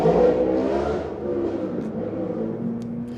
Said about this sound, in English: heard that motorcycle?